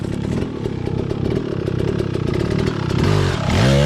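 A dirt bike engine chugs loudly at close range with rapid clattering pulses, then revs sharply upward near the end as the rider hops a log using a double blip.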